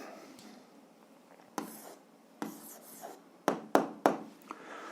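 Pen strokes writing an algebra answer on paper, soft scratching with several sharp taps as digits and points are marked, close and quiet with no talk.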